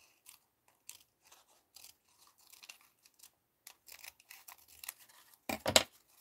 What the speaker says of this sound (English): I'm going to cut them a little shorter.